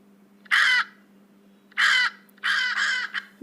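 A crow caws loudly and close by, one call, then after a pause a few more in quick succession, alone over a faint low hum.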